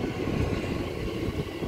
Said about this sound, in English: I'll be catching this train to the city.